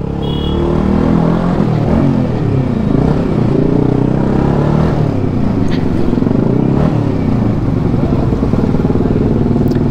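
A Cross X motorcycle is ridden. Its engine drones steadily and loudly with a rough, buzzing tone, and the pitch rises and falls slightly as it moves along.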